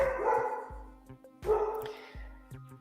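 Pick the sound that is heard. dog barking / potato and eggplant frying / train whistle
dog barking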